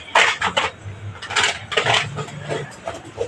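Punugulu batter is beaten vigorously in a bowl, giving quick irregular clinks and wet scraping strokes in uneven bursts, close up, with no talking.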